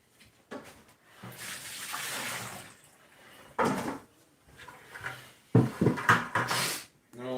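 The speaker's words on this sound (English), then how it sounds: "I poured out water" Water being poured out indoors, in splashing bursts separated by pauses, along with clunks of handling containers; moderately close, with no talk.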